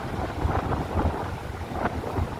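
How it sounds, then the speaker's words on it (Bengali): Strong wind blows across a long seaside pier at Bournemouth, a steady, gusting roar that buffets the microphone close up, with no voices. "কতটা হাওয়া দিচ্ছে, কতটা মনমন করে হাওয়া দিচ্ছে, মনমন করে শো শো করে হাওয়া দিচ্ছে।"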